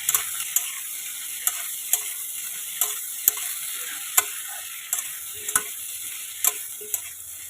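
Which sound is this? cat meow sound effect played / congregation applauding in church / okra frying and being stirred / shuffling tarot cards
okra frying and being stirred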